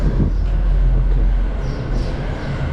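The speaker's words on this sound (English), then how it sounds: "Oh, this must be the train" A train rumbles at Monastir station in Tunisia, giving a loud, low, steady roar with a faint rattle that eases slightly toward the end. No voices are heard.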